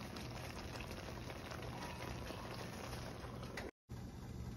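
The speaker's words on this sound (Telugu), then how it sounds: "అడుగంటకుండా మీడియం ఫ్లేమ్లో దీన్ని ఫ్రై చేసుకోవాలి." Prawns fry on a medium flame under a lid, giving a continuous, even crackling sizzle like light rain, close by and steady, cut by one brief dropout near the end.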